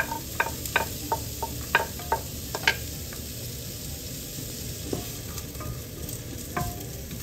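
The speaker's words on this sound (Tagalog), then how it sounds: "Sabayin na po natin ng bawang at sibuyas." Garlic and onion sizzle in hot pork oil, a steady close frying hiss broken by sharp spatter pops and stirring scrapes, with no talking.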